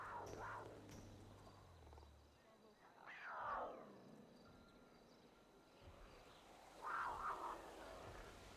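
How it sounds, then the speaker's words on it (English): Big cats roar in a GTA NoPixel roleplay game world, with three separate growling roars spread out over a quiet forest ambience of insects, fairly faint and at a distance. "These cats are so loud."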